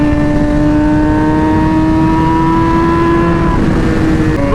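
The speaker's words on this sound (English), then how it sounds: "this exhaust is way too loud though" A loud, steady motorcycle engine rumbles at idle with a throaty exhaust drone, holding a constant pitch that shifts slightly near the end.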